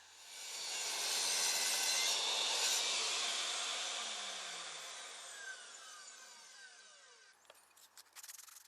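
Power saw blade spinning at speed and cutting through scrap wood for wardrobe shelving, a loud sustained whine and rasp that swells then slowly fades, with a few small knocks of the offcut settling at the end.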